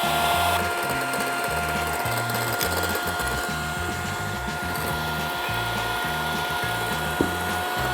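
A blender whirs steadily for the whole stretch, a loud, close, churning motor with uneven low pulses as it mixes homemade diet mayonnaise with rapeseed oil; no voices.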